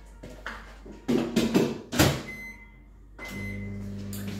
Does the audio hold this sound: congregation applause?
no